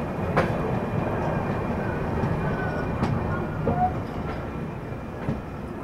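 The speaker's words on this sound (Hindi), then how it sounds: "चलिए निकल गई है ट्रेन अपनी टूंडला जंक्शन से।" Prayagraj–New Delhi Humsafar Express pulling out of Tundla Junction at night, a steady low rolling rumble with periodic clicks and knocks from wagon wheels over rail joints, continuous and close throughout.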